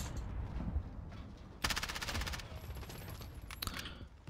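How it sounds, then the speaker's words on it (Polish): Bursts of automatic gunfire in Call of Duty: Warzone, an MP7 among the weapons, with a dense volley from about 1.6 to 2.4 seconds and a few sharper shots after, all over steady game ambience. "Ktoś tam jeszcze strzela."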